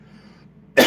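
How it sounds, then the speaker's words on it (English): A single sharp cough bursts out close to the microphone after a quiet moment, loud and brief against a faint room background. "Hold on a second. I'm gonna cough again."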